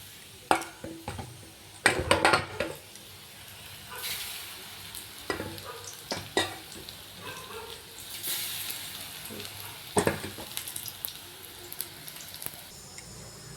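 Helencha greens pakoras frying in oil, a soft continuous sizzle broken by repeated scraping and stirring clatters of a utensil against the pan, with faint background voice at times.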